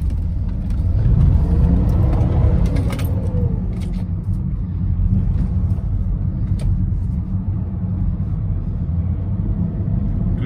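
A warm BMW 5 Series E39 525d diesel engine with 334,000 km rumbles close by, revving up and holding a steady, throaty drone for several seconds.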